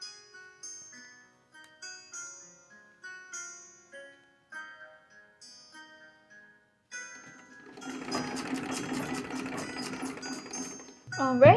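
A sewing machine stitches fabric for an 1880s-style coat. It starts partway through after soft, sparse tones and runs as a steady, fast, close whirring rattle for several seconds before stopping abruptly.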